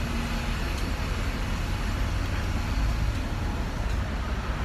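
Bus idling or rolling close by on a town street, a loud continuous low engine rumble and road noise filling the whole stretch without pause.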